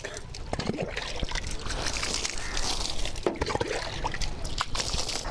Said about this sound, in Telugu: గట్టి మట్టి వేసుకున్న తర్వాత ఇలా పేడ నీళ్ళు చల్లుకోవాలి.